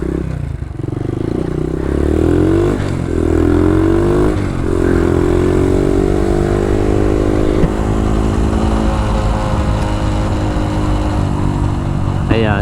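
A Honda Dax motorcycle with an exhaust leak rides off-road, its close engine buzzing and rising in pitch under acceleration, with rattly clatter and a sputtering exhaust note throughout.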